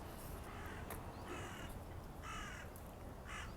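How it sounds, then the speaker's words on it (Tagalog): A crow caws in a park in Japan, several harsh calls spaced a second or so apart over a steady outdoor background hiss, moderately distant. "yung tingnan nyo yung crow or uwak"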